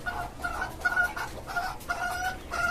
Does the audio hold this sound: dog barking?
no